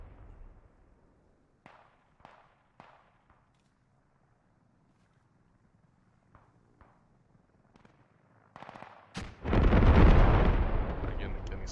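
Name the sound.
artillery shelling an airfield in the video game Squad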